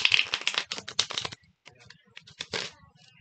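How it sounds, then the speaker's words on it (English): Playing cards being spring shuffled by hand, fast rattling bursts of cards flicking close up, pausing briefly and then coming in a second shorter spurt, with a voice heard faintly. "this shuffle requires you to do the spring, which is this"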